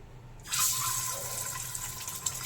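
Salt-and-turmeric-coated eggs dropped into hot mustard oil, a sudden loud hissing sizzle bursting in and holding steady, close and without talk.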